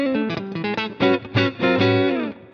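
An electric guitar on its bridge pickup plays a short phrase of bright, overwound-sounding notes. The tone is steely and forward, with a slight P90-like grit. Notes ring and sustain over a couple of seconds, and there is no talking.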